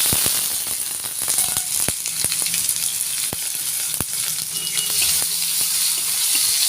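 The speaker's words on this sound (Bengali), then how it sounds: "এগুলো বেশ ভাজা ভাজা হয়ে গেছে। এবার দিয়ে দেব টমেটো।" Tomatoes hitting hot oil already crackling with bay leaf, dried red chilli and whole spices, a loud close sizzle with sharp pops and stirring clicks throughout, no talk.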